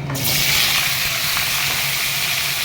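Potatoes and pointed gourd fry in a hot pan after the spices are tempered, giving a loud, steady close-up sizzle with a hissing crackle throughout and no talking.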